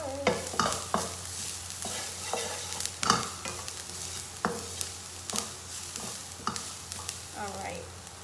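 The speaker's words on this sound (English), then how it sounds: "the garlic and onions are brown, so I'm adding the mixed Italian herb. It's about a pinch of it, and we'll just give them a stir." Browned garlic and onions with a pinch of mixed Italian herbs stirred in a pan: a steady low sizzle broken by repeated scraping strokes of a spoon against the pan, close and clear, with no talking.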